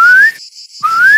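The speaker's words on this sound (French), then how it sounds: "dès qu'on siffle comme ça" A person whistles to call chickens in a garden with two loud, close, rising whistles separated by a short gap.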